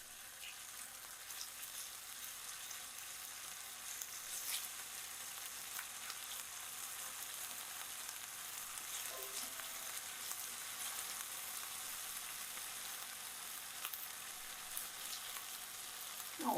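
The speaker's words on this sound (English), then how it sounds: "I'm just gonna mix this up in the oil." Basil stirred into hot oil in a pan, producing a soft, even sizzle that crackles steadily for a long stretch, fairly quiet, with only faint scrapes and no talking.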